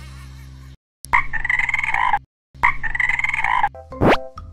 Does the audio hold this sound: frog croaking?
yes